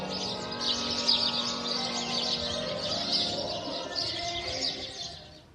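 A house sparrow chirps in quick, bright, continuous bursts, close and fairly loud, with no voices over it.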